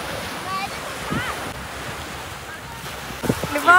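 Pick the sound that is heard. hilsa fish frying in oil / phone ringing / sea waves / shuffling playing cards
sea waves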